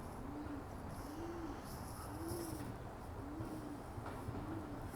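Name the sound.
pigeons cooing where they roost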